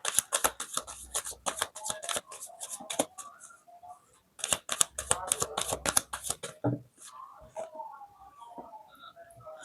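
Tarot cards being shuffled by hand in quick bursts of crisp riffling flicks, two main runs separated by a short pause, close and fairly quiet, with soft speech in the background.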